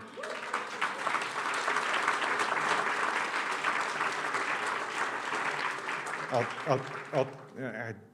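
Audience applause at a Rotary Club fundraising event in Santa Maria, California, a steady roomful of clapping that holds for several seconds before thinning into scattered claps, with a few brief voices near the end.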